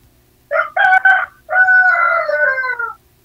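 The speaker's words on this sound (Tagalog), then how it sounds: "Daming manok." A native rooster crows loudly and close in two calls, a clipped broken opening followed by a long drawn-out cock-a-doodle-doo, against a quiet rural backdrop.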